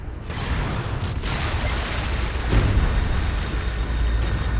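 Continuous gunfire and explosions in the Anno 2205 Arctic sector battle, a loud unbroken roar of blasts and bursts with a few sharper booms near the start and midway.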